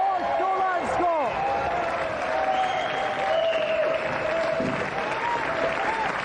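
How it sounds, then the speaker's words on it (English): Loud applause from a live audience, with a dense sustained clatter of many hands clapping for several seconds, and bright whistling tones sliding over the top. "Round of applause, ladies and gentlemen, for our 3 planks."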